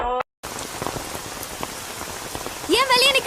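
Rain falls steadily in a dense, close hiss with scattered drop patter, briefly cut off near the start, then a voice speaks over it at the end.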